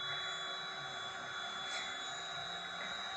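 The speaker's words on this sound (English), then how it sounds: "the noise you're about to hear is me blowing up this bed" Electric pump inflating an air mattress, a steady loud whooshing drone like a vacuum cleaner with a high motor whine, continuous and unbroken throughout.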